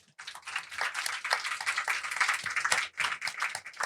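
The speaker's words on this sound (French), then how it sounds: "On peut encore les applaudir." Audience applause at a live talk event, dense clapping from a crowd swelling and dipping for a few seconds with no one speaking.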